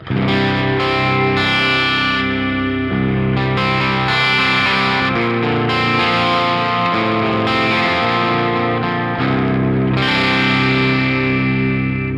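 An electric guitar with high-output pickups plays sustained chords through a driven, distorted patch with a chorus-like shimmer. It is loud and continuous, changing chord every few seconds, with no voice.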